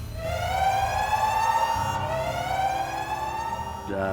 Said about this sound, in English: And the search and rescue alarm went off.